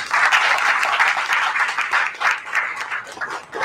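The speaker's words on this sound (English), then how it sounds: "So please give him a big round of applause." Audience at a municipal election candidates event breaks into a big round of applause, loud, close clapping that swells and fades in waves over a few seconds.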